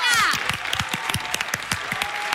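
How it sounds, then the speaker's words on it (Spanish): A studio audience at a Spanish television talk show bursts into applause, a dense, steady clatter of many hands clapping close by without a break. "¡Pues un aplauso!"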